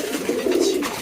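Domestic pigeons coo steadily after being fed, a close, loud, continuous low murmur filling the whole second with no talk.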